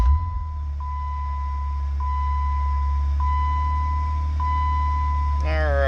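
A car is switched on after rear brake work, and a low, steady engine hum settles in while a dashboard chime beeps at even intervals, ending in a brief warbling tone.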